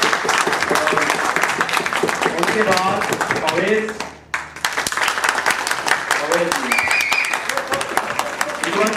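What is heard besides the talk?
audience applause at a debate competition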